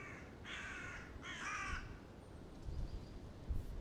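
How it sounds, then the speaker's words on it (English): Two harsh crow caws in quick succession, fairly distant, over a low rumbling outdoor background. "With the crows circling ahead, it's quite ominous."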